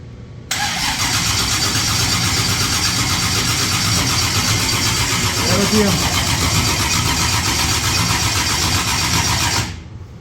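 A shop car, the 388, cranking over and firing for its first start after sitting with low compression, a loud continuous mid-pitched engine roar that holds steady and then cuts off abruptly, with talk faintly under it.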